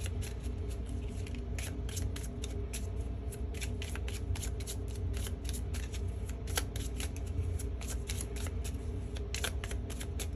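Small oracle cards are overhand shuffled by hand continuously, soft rapid slides and flicks close to the listener, steady throughout against a quiet hiss.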